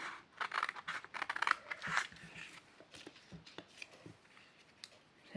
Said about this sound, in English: Now what you need to do is you're going to cut down